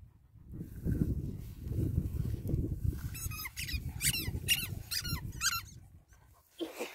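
Dogs at play, German Shepherds and a Husky, chew squeaky balls, sending out a run of sharp, rhythmic squeaks over low rumbling movement and breathing close by.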